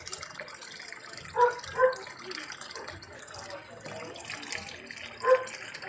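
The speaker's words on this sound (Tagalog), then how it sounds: "Yan, tuloy-tuloy yung karga niya ng tubig." An LG automatic washing machine's drum keeps filling with water without switching to wash, a steady gushing flow with a few sharper splashes and clunks, close by.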